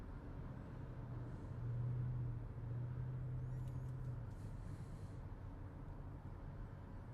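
A car drives along the road in a low, steady engine rumble and road noise, quiet and continuous, heard from inside with no talking.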